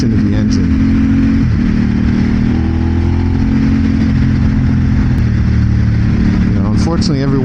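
The engine of a 2026 Aprilia RS 660 sport motorcycle hums loudly and steadily while it is ridden, its pitch shifting and climbing as the throttle changes. Heavy wind noise runs throughout, and a rider's voice is faintly audible.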